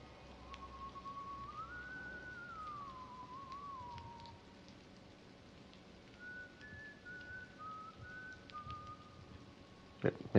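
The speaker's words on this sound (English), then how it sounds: "I can definitely hear the whistling from the left." A ghostly whistled tune drifts through the dark corridors in the horror video game White Day, faint and wavering, one melodic phrase followed later by another softer one, with rain-like background hiss and a sharp knock at the end.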